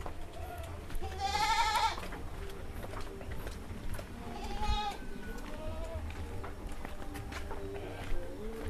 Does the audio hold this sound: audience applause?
no